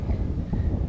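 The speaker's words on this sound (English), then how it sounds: "And boy, it's windy today." Wind buffeting the microphone outdoors on a ranch on a windy day as storms move in, a steady low rumbling roar for under a second with no other sound.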